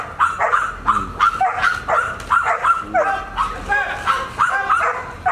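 Alpha, a protection-trained K9 dog, barks close and loud in a rapid rhythmic series, mixed with yips and whimpers.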